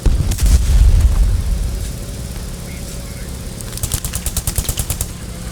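A castle blown up in a war strategy video game, a heavy booming explosion that rumbles and fades over two seconds, later followed by a fast rattling burst of automatic gunfire.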